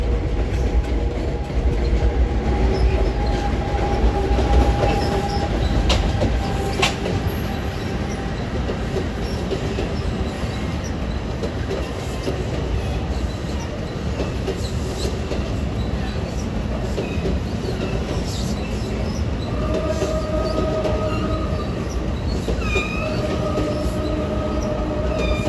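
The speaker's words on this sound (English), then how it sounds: "Here comes an ALP 45DP power train going into the tunnel out of the yard," An ALP-45DP dual-power New Jersey Transit locomotive and train heads out of the Sunnyside yard into a tunnel in Long Island City, a steady loud rumble with wheel and rail noise and faint high squeals, heard alone without talk.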